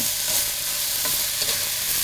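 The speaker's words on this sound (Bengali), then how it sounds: "ইলিশের তো তেল উঠে এসেছে, এটা একটু ভাজা হোক" Hilsa fish frying in its own released oil in a pan while pulao is prepared, a steady, loud, close sizzle with faint crackles and no talking.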